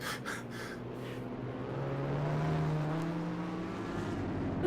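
Race car at Lee Speedway drives off after a win, its engine hum swelling gradually as it nears, moderately loud and steady, with brief clatter at the start and no speech.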